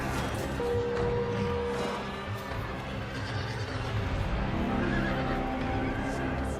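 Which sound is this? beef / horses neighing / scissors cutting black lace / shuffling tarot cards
horses neighing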